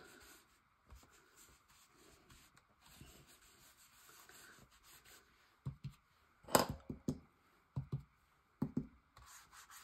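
A paint brush dabbed and rubbed over a stencil for a collage, giving soft scratchy brushing strokes, faint at first, then a cluster of louder, sharper dabs and scrubs near the end.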